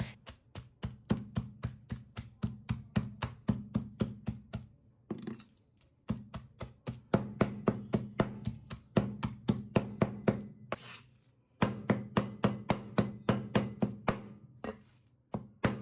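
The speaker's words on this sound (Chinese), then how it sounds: "再把虾仁放进来，然后用刀给它们剁成肉末" A knife mincing shrimp and sliced shiitake mushrooms on a board makes rapid, even chopping taps close up, in long rhythmic runs broken by brief pauses.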